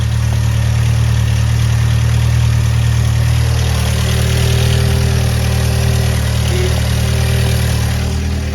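A Datsun 521 car engine idles steadily and loudly up close, a constant low rumble with a faint hum. No voices are heard.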